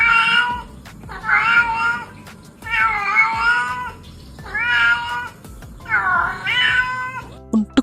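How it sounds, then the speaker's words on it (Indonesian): A cat meows repeatedly in five drawn-out, pitch-shifting calls with short pauses between, close and fairly loud, with no talking. "Selain berkomunikasi dengan mengeluarkan suara, mereka juga mampu mengubah nada suara mereka."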